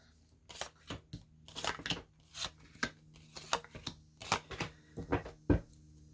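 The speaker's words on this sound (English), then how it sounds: "let's go ahead, cut this deck" A tarot card deck is cut and shuffled by hand, giving a run of soft, close riffling and tapping bursts in an irregular rhythm, with quiet handling noises between them.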